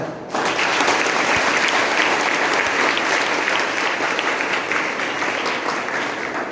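An audience at a Kannada motivational talk bursts into loud, sustained applause, a dense wash of many hands clapping close and steady for several seconds.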